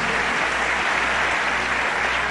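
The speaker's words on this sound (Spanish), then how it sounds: "Un aplauso para Costa Rica." An audience applauding Costa Rica's candidate at an international coffee queen pageant, a loud, dense, continuous roar of clapping with a low rhythmic thump pulsing underneath.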